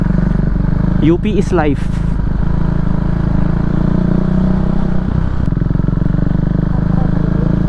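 A motorcycle rides through the UP Diliman campus in Quezon City in the evening, its engine droning steadily and loud up close with constant wind buffeting, while a rider speaks briefly over it.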